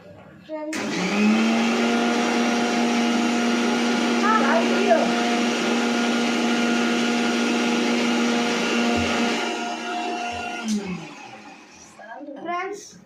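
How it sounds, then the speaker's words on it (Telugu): A mixer grinder blends an Oreo shake with a loud, steady motor whine and churning that runs for about ten seconds, then winds down, with brief talk after it stops. "ఫ్రెండ్స్ మళ్ళీ గ్రైండ్ చేయాలి."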